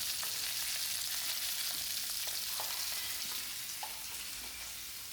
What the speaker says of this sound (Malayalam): വെളിച്ചെണ്ണയിൽ തന്നെ വറക്കാം.